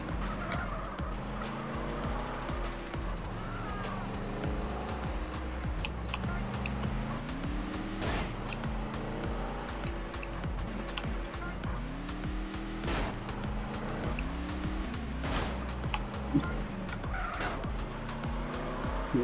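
A slow car in the video game GTA San Andreas drives with a droning engine while tires squeal and skid repeatedly in rising whines, steady and close over about twenty seconds of gameplay.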